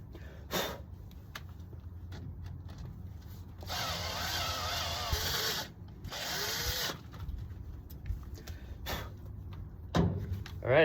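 A cordless power drill bores into a 1949 Chevy 3100 truck king pin in two bursts of steady whirring, separated by quieter pauses with clicks and handling noises.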